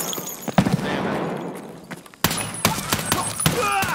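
Escape from Tarkov gunfire crackles in sharp, close shots and a dense burst, ringing out over a noisy background.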